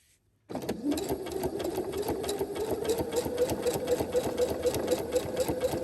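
A sewing machine runs steadily through a decorative scallop stitch made with narrowed zigzag settings, its rapid mechanical chatter continuous and close after a brief silent start.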